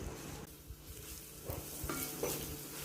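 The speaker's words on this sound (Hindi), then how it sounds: "गार्लिक को थोड़ी देर सौते कर लेते हैं" Chopped garlic sautés in hot oil for homemade veg spring rolls, giving a steady close sizzle broken by light stirring scrapes, with no talking.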